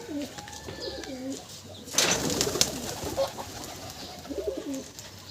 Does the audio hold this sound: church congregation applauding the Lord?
no